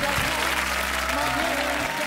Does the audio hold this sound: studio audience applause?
yes